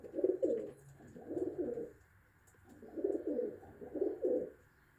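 A Teddy pigeon, about five or six years old, coos in soft, low, rolling phrases, four swelling calls in two pairs, close by with no talk.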